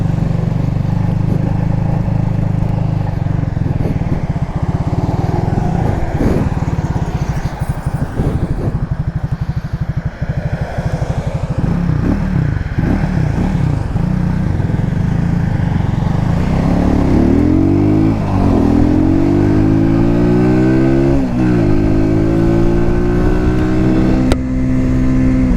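Cougar Vitacci XMT 250 motorcycle with a counterbalanced engine on a test ride, a loud close-up engine hum under wind noise that revs up through rising gear-shift sweeps as it accelerates.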